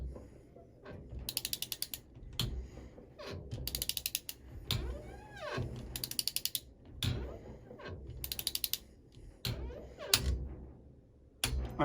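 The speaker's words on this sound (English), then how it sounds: "Try to move the torque wrench steadily as you install the plug." A torque wrench ratchets as a heat exchanger tube plug is installed, giving bursts of quick metallic clicking separated by short pauses and creaks, close and fairly quiet, repeating across the whole stretch.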